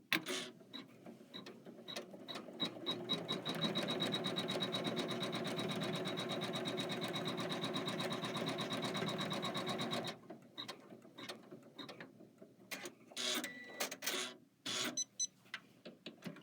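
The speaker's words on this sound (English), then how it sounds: "we're going to stitch another placement line down the right-hand side" An embroidery machine runs steadily, stitching a placement line for a Kimberbell Embroidery by Number Bloom design, a dense continuous mechanical whir that stops about two-thirds through, followed by scattered clicks and handling noises.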